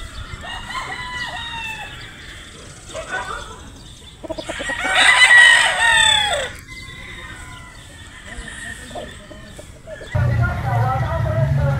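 A pure Boston Roundhead gamefowl rooster at a game farm in Batangas crows loudly and close, with clucks and other bird calls scattered around it, while a person talks at intervals.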